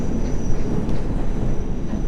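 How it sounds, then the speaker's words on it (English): Loud, steady rumble and rattle of a London Underground Circle line train in the World of Subways 3 simulator, a dense rolling roar of wheels on track with a thin high whine above it. "Where's that train going?"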